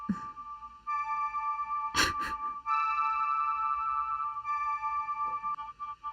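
A dry synthesizer holds sustained, bright tones that change pitch a few times, with brief clicky transients and no lingering echo or tail.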